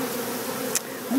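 Honey bees hum in a dense, continuous drone during removal of a colony from a wall, close and steady, with a brief rustle near the end.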